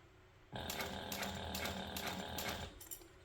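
A sewing machine runs steadily for about two seconds, stitching the straight flat edge of a pocket onto a crossbody waist bag, with rapid mechanical clatter after a quiet start.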